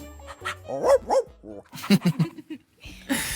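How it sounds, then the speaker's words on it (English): A dog barks in a short playful burst, a few yips and bow-wows mixed with children's voices talking nearby, ending on a brighter noisy rush. "this is Bark, the amazing wonder dog."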